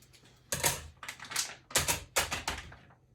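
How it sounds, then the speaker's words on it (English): A packet of spice powder is cut open for a meatball and potato korma, giving several sharp close snips and crinkles in an uneven rhythm. "so we need to just cut this open."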